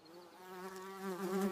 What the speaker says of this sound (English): This is a wasp.